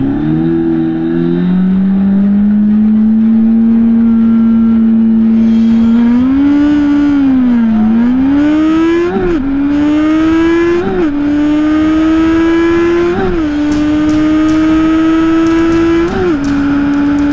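A drag-racing motorcycle at a Wednesday night drag strip makes a loud, close engine run, climbing in pitch through several sharp gear shifts with brief dips between each pull, alone with no talk.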